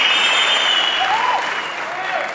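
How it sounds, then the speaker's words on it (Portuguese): A comedy-show audience applauds loudly and steadily, dense clapping filling the room, with a few faint voices within it. "Por que vocês estão aplaudindo?"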